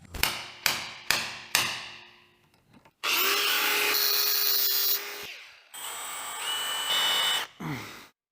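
A power drill whirs loudly in two long bursts of high-pitched spinning, boring a 7.5mm hole in an Audi RS3, after a series of four sharp hammer taps.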